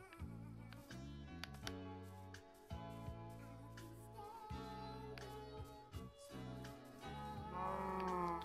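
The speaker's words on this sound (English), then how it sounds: "Ooh, little cows." Cows in the Minecraft video game give low, drawn-out moos that repeat through the stretch, layered over steady sustained tones without pause.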